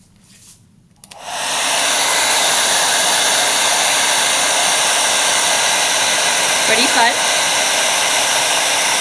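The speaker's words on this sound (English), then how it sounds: "while the hairdryer is running, especially when I turn it to the side" A hair dryer switches on with a click and blows loudly and steadily at close range in a classroom physics demonstration, a brief spoken remark barely audible beneath it.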